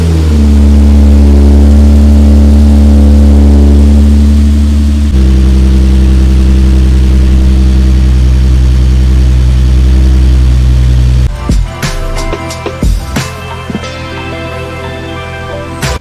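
A Nissan 370Z engine, just fitted with a 25-row oil cooler, runs loud and close with a deep steady hum that shifts pitch, then drops into sharp uneven revving bursts near the end.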